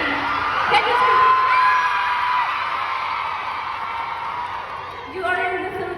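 A concert crowd in Manila screaming and cheering, heard as a dense, sustained roar of high-pitched shrieks and whoops from many voices, swelling slightly near the end.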